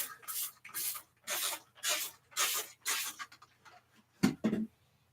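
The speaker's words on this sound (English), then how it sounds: "So I spray more on the floor." Five rhythmic hissing sprays of floor cleaner from a trigger bottle onto a floor, evenly spaced and close, followed by a couple of soft scuffs.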